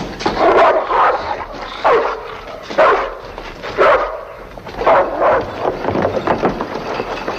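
A stray-seeming dog barking in an alley in a 1958 western film, a series of sharp, loud barks in uneven bursts, close to the listener with no talking.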